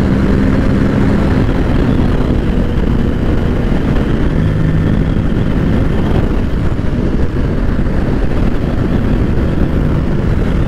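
A 2020 Kawasaki Ninja 650 KRT Edition motorcycle engine on the move, a steady, loud drone from close by mixed with heavy wind rush, holding level throughout with no speech.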